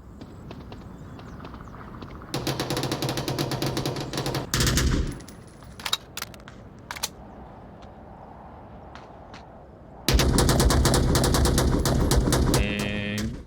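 Gunshots in a competitive video game match crackle in rapid automatic bursts, several clusters of fast repeated shots separated by quieter gaps with scattered single shots and game ambience, fairly loud and close.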